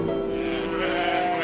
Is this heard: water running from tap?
no